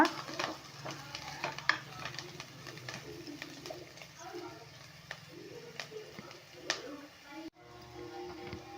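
Dried red chillies fry in hot oil as a tempering for spinach sambar, giving a steady crackling sizzle with sharp pops and spatters, close and fairly loud throughout, with faint bird coos somewhere in the background.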